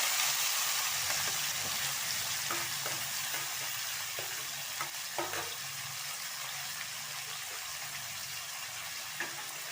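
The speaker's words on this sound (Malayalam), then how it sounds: "കടുക് പൊട്ടിയതിന് ശേഷം നമുക്കിതിലേക്ക് തക്കാളിയും പച്ചമുളകും ചേർത്ത് കൊടുക്കാം" Tomatoes and green chillies fry in hot oil with popped mustard seeds, giving a loud, continuous sizzle broken by scattered pops and stirring scrapes, with no voices.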